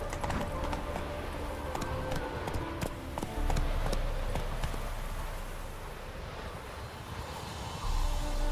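Horse hooves clip-clopping in The Witcher 3, a brisk steady rhythm of close hoofbeats over a low rumble, alone without talk.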